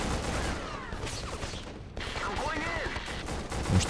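Gunfire in the Call of Duty: Finest Hour video game on PS2, rapid battlefield shots and crackling bursts running throughout under a busy mix with voices present.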